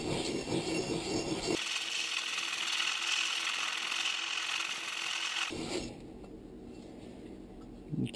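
An axe blade is ground in circles on sandpaper, producing a continuous close gritty rasping and rubbing that grows brighter and steadier midway, then drops back to a softer scrape.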